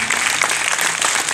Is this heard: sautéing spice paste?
no